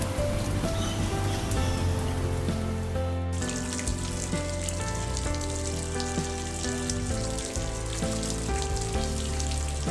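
Heavy rain pours down in the Atlantic Forest, a dense, unbroken hiss of falling water that shifts abruptly partway through to a brighter, splashier wash, steady and loud throughout.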